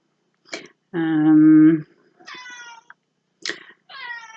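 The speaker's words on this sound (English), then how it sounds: "You can probably hear my cat squealing in the background" A pet cat squeals and meows for food, sounding as several short close cries with one long drawn-out yowl, clear and alone.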